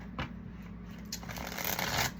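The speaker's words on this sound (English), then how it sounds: "A couple more shuffles" Tarot cards shuffled close up in a few soft riffling bursts, quiet and crisp, with no voices.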